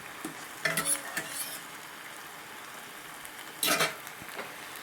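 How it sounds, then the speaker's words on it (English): Food gets stirred through in a pan over a soft sizzle, with two short bursts of scraping and clatter from the utensil, close by and without any talking. "Give that a quick stir through."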